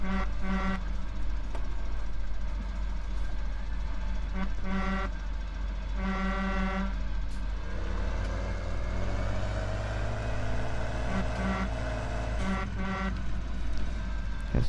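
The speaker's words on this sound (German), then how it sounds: "Die Hupe ist auch geil." A John Deere 6R tractor horn in Farming Simulator 17 honks in several bursts, short toots and longer blasts, loud over a steady engine drone.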